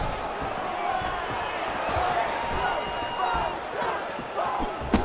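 Arena crowd noise from a UFC 5 video game bout between Jon Jones and Jiri Prochazka, a steady, dense roar of cheering spectators that holds at an even level throughout with a few brief sharp accents.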